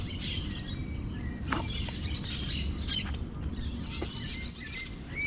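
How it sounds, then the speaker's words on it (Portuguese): Parrots squawking in trees, with a flock of scattered chirps and calls overlapping at moderate distance, a few sharper cries standing out above a steady outdoor background. "E é um monte de papagaio"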